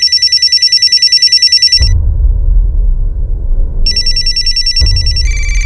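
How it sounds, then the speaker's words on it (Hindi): A telephone bell rings loudly in rapid repeated bursts, stops while a low rumbling hum takes over, then rings again near the end. "सलीम जी फोन लीजिए और जैसा वो करने के लिए कहे आप करते रहिए।"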